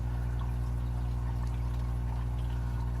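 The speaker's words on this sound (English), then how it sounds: "we actually have some water flow coming through the pipe" Water pumped through a pipe into an aquarium sump produces a continuous low hum and rushing, gurgling flow, close and steady with no break or voices.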